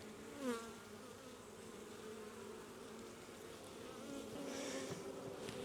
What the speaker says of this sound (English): There's a lot of bees at the tree coming back from foraging